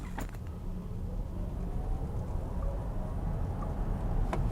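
Volvo EX90 electric SUV pulling away hard from a stop, a steady close road rumble and tyre roar that holds level throughout, with faint brief clicks at the start and end.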